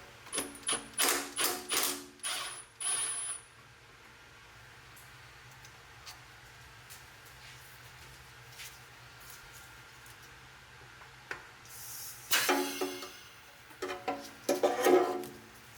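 A ratchet loosens 10mm bolts on the AC lines of a 2010 Toyota Camry, quick bursts of close clicking at the start and again near the end, separated by a quiet stretch of faint background hum.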